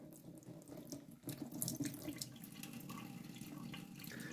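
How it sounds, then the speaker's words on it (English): Water runs steadily from a tap onto a shoe during mirror-shine polishing, a soft continuous trickle with light splashing, faint and close throughout. "we've got the water going directly on there, constantly giving some lubrication"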